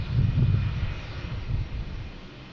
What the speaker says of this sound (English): We have that JetBlue making all the racket here coming into the alley.